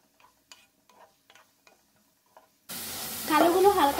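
Potato pieces go into hot oil over a low flame and start sizzling, a steady frying hiss that begins partway through after a few quiet clicks and stirring taps.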